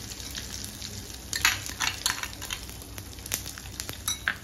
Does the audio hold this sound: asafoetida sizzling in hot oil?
yes